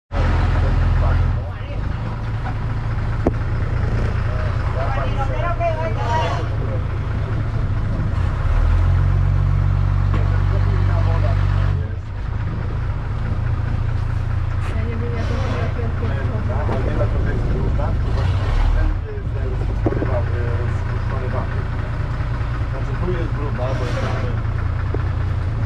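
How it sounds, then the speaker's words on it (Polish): Tourist longtail boat engine in Phang Nga, Thailand, a loud, steady, tractor-like diesel drone running continuously close by, with people talking over it and one surge in the middle. "Zobaczcie, silnik jak w traktorze."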